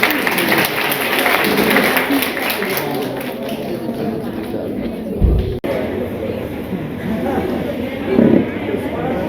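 An audience claps at a reception honouring a girl at Bharateshwari Homes, steady applause with people talking over it and a brief pause partway through.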